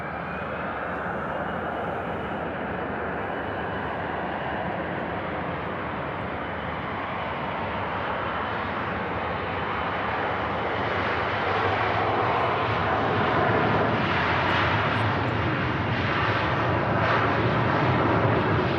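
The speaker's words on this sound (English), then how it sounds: "Performance takeoff by Hawker Beechcraft." A Hawker Beechcraft business jet makes a performance takeoff at Manchester Airport, its engine roar loud and steady from the start and swelling louder and fuller toward the end, with no talk over it.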